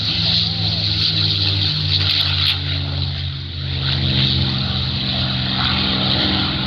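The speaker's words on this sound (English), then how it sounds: "The North American P-51, considered by many to be the premier fighter built in the USA" A North American P-51 piston fighter flies over an airshow in Peachtree City, Georgia, its propeller engine a loud, steady roar that swells and fades slightly as it passes, with an announcer talking over it.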